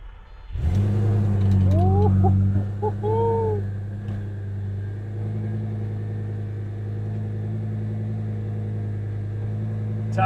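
A 2008 Lamborghini Gallardo with a Heffner twin-turbo engine and factory six-speed cranks and fires, a loud close flare of revs that settles into a deep steady idle rumble, with no talking.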